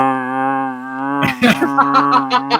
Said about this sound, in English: I will pull out my didgeridoo.